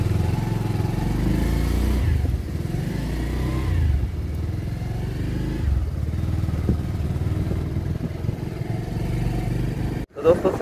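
A motorcycle ridden along an open road on a morning ride near Faridabad, a steady loud engine drone with wind rumble throughout, briefly cutting out near the end.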